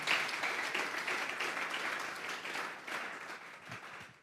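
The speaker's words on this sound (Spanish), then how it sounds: "Dale un fuerte aplauso pues al Señor" A congregation applauding in a church, dense clapping from many hands that holds steady and then slowly thins toward the end.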